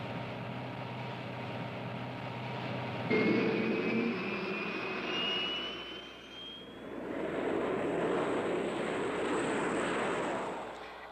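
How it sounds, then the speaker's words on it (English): A prop-engine Cessna scout plane flies during the Vietnam War, its engine droning loudly and steadily with a rising tonal whine that swells and fades, all with no voices. "A prop-engine Cessna acts as scout for the jets."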